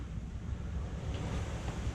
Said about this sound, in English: the waves are slowing us down a little bit